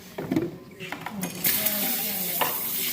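A bowl being rinsed out at a kitchen sink, with clinking dishware, running water and scraping clatter, close and fairly loud, while voices talk in the background.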